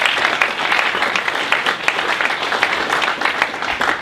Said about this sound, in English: All right, everyone please give a round of applause for Sheun.